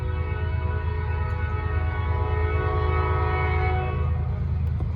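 A southbound Norfolk Southern freight train of 136 cars, led by three locomotives, passes close by, its loud horn blaring in one long sustained chord over a heavy rumbling roll of wheels.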